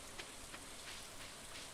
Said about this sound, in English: The rain sound is lovely, isn't it?